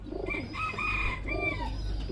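Tiger grizzle pigeons cooing close by in a loft, soft throaty rolling coos repeating over a low background rumble.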